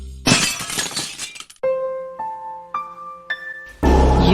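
Glass shattering loudly with breaking crashes, then a series of tonal clinks and chimes of falling shards, ending in another burst of smashing glass, all close and without speech.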